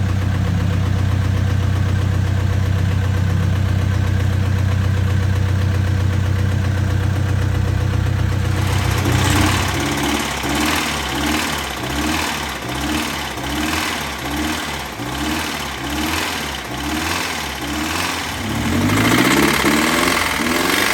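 A six-turbo truck engine idles loudly and steadily close by, first as a smooth low hum, then with a rough, pulsing, lumpy rhythm that swells again near the end.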